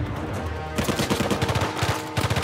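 Shotgun blasts in the video game Uncharted 4: A Thief's End, a loud rapid run of booming shots packed close together after a brief quieter lead-in, with no talk over them.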